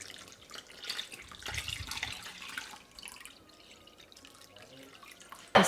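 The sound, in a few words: water poured into rava dosa batter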